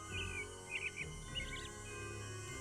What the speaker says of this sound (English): This is so rude to make me sit through all these bird calls.